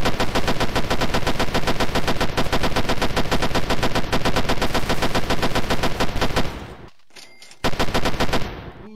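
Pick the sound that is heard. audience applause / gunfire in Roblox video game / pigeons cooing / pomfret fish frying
gunfire in Roblox video game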